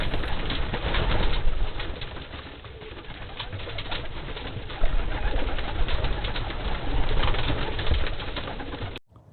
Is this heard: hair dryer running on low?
no